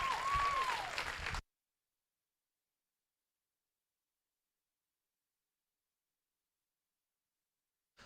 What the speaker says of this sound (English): let's give another big round of applause to our judge